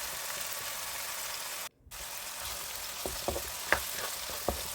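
Rice vermicelli sotanghon guisado with soy sauce is stirred in a pan: a steady frying hiss that cuts out briefly, then returns with a few scattered scrapes and taps of the utensil against the pan.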